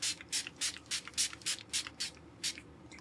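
Short hissing bursts of a face setting spray from a pump sprayer, about a dozen quick puffs in a steady rhythm, close and fairly quiet, with no talking.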